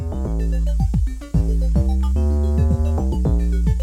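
Bright modular synthesizer notes pluck and glide in pitch, overlapping in a busy pattern with delay echoes and a lingering reverb tail.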